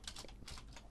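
Quiet keyboard typing during a live-streamed class, a quick run of soft key taps heard faintly and close, with no talk.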